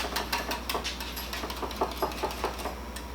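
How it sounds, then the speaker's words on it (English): A whisk beating custard pie egg mixture in a bowl makes a steady, rapid patter of soft strokes, fairly quiet and close, with no talking. "I'm going to whisk."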